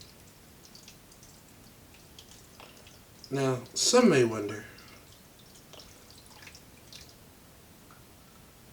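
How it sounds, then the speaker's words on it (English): A liquid mixture is poured over burgers loaded in a cooking pan, a brief splashing pour of about a second and a half, moderately loud, with someone talking before and after. "then we're just gonna pour our mixture over it"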